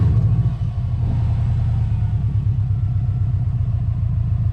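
A Subaru STI stuck in snow revs hard, its engine a deep, loud, close rumble that pulses steadily throughout with no one speaking.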